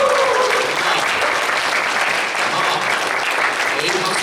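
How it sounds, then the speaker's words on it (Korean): Church congregation at a Sunday youth service applauding a visiting senior pastor, a steady wash of many hands clapping throughout, fairly loud and continuous with no clear break. "박수로 한번."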